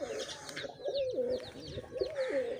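Pigeons coo repeatedly at close range, soft throaty calls rising and falling in a steady rhythm with faint background noise.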